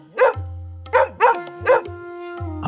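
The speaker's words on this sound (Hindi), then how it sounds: "दूर कहीं कुत्तों के भौंकने की आवाज लगातार सुनाई दे रही थी।" Dogs bark in a village on a windy night: four or five loud, close-sounding barks in an uneven rhythm, with a low steady hum between them.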